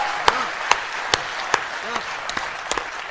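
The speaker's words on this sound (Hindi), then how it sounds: "मैं उम्मीद करूंगा तालियां जयपुर पहुंचे" At a Hindi poetry recital, an audience claps in sparse, evenly spaced single hand claps rather than full applause, sharp and distinct with faint voices underneath.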